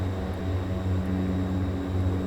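Fairchild FH227 turboprop airliner engines in Microsoft Flight Simulator 2020, heard from an external view: a steady, loud propeller drone with a low hum that holds evenly throughout, with no talking.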